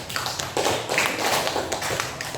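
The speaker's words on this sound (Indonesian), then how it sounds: "Berikan tepuk tangan sekali lagi untuk kelompok ketiga." A classroom of students gives a round of applause for the third group after its presentation on procedure texts: steady, dense clapping from many hands, close and fairly loud, with little talking.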